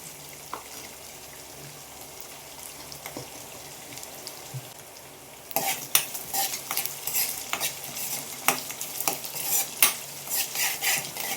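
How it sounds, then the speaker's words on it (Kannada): Onions fry in hot oil in a pan for chitranna with a steady low sizzle. Halfway through, louder spoon scrapes and clinks of stirring join in. "ಇವಾಗ ಇದು ಸ್ವಲ್ಪ ಫ್ರೈ ಆಗಲಿ."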